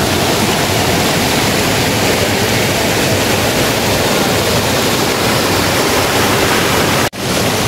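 Steady, loud roar of rushing water from Jangkar Waterfall in Lundu, Sarawak, a continuous broadband wash with no voices, cut by a brief dropout near the end.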